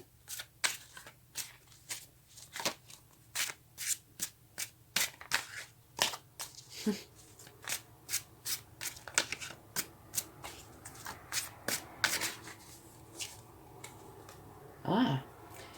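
A deck of tarot cards shuffled by hand, a quick run of sharp riffling flicks and soft card slaps in an uneven rhythm, close and clear with no talking.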